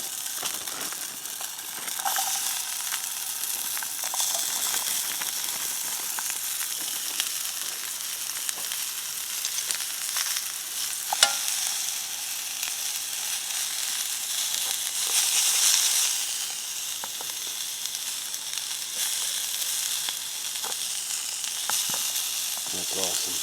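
Peppers and onions simmer in a pan on a Trangia camping stove, giving a continuous soft sizzling hiss with faint crackles, steady and moderately close.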